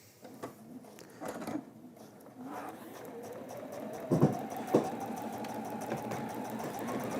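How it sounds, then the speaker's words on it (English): A Juki sewing machine stitches fabric, its motor running in a steady hum that builds and holds, with a few sharp clicks and knocks along the way. "I'm just going to pop that under, and then we will just sew that."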